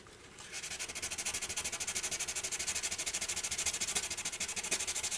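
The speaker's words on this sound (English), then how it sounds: "So we're going to sand this down." Steady rhythmic sanding of a Batman statue, fast regular back-and-forth strokes rasping across a hard surface, close and continuous with no talking.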